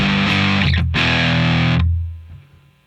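Electric guitar played through a DOD distortion pedal in a bypass looper rig, a loud, thick sustained distorted chord with a brief re-strike, ringing out and then fading away.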